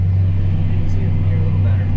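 A tractor with its PTO engaged drives a manure spreader in -20C cold, giving a loud, even, low mechanical drone that holds steady without a break and with no voices.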